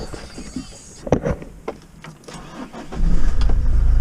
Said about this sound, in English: fire straight up first turn of the key